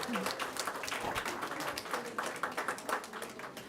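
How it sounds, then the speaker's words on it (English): A round of applause for students at a school board of trustees meeting, brisk clapping from a moderate crowd with audible individual claps, while people talk over it. "Let's give our students another round of applause."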